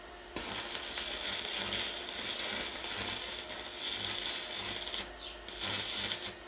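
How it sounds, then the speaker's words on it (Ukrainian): A Tesla MIG MMA 285 welder holds a steady arc at roughly 100 to 110 amps, a continuous loud crackling hiss that breaks off briefly near the end and then resumes, with no talking. "Дуга дуже класна. М'яка м'яка."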